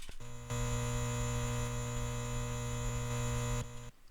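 A steady electrical hum from a neon sign in a video game, with a bright buzzing edge, drones without change for a few seconds, then cuts off abruptly.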